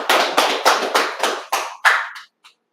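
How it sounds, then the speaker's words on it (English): A group claps hands in unison at a security class meeting, about seven sharp, evenly spaced claps close up that taper off, with a faint final clap after a brief pause. "Clap it up."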